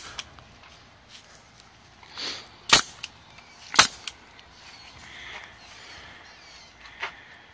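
A pneumatic air staple gun firing staples into a fence outdoors, two sharp loud snaps about a second apart, with a fainter click later over quiet background.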